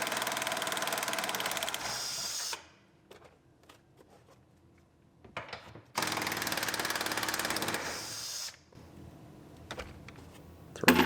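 A power tool, likely an impact driver, removes the rear seat bolts in a 2017 GMC Terrain Denali, with two loud rattling bursts of about two seconds each at close range, separated by quiet clinks and handling noise.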